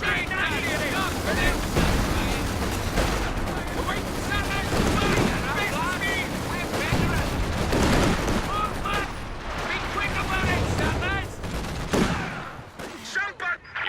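A dense, continuous World War II battle din from Company of Heroes, with an enemy attack on headquarters, brings rattling gunfire and rumbling explosions, and shouted unit voices break through the roar throughout.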